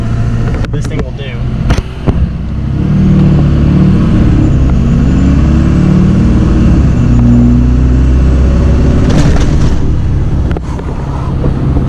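A 2004 Chevy Silverado 3500 with an LLY Duramax diesel engine revs up and pulls hard at 2,000 to 2,500 RPM, a steady loud low rumble that builds and holds, with a few clunks at the start.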